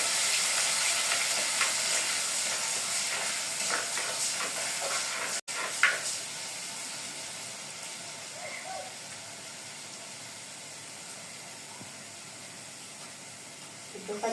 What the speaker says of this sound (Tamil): வெள்ளைப்பூடு, இஞ்சி, போட்டு நல்லா வதக்கணும்.